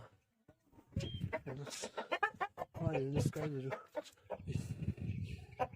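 Hens cluck and squawk close by in short, uneven bursts in a small chicken coop while someone talks over them.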